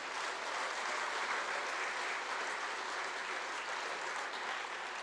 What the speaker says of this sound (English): And a round of applause for Sights and Arms in St. Albert, allowing petitions there.